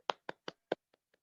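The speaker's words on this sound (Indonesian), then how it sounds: "Tepuk tangan dulu untuk Dita" Hands clap six times in a classroom lesson for a student. The first claps are crisp and close, and the last two are fading and faint.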